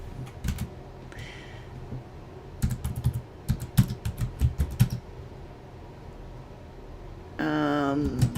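Close computer keyboard typing in irregular bursts of quick key clicks, with pauses between runs and a brief faint voice near the end.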